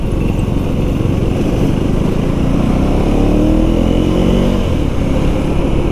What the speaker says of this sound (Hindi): वो वाली आवाज़ आती है एंड हाई RPMs में थोड़ी अच्छी बढ़िया सी साउंड आती है।